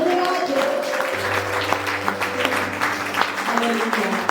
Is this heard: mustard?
no